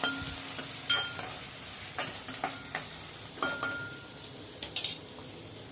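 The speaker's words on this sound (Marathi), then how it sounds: "कांदा चांगला गुलाबी रंगावर होईपर्यंत त्याला मी चांगला परतून घेत आहे।" Onion with curry leaves sautés in a pan for a flat bean and potato bhaji: a soft background sizzle broken by repeated clinks and scrapes of a metal spoon stirring, fairly close and quiet.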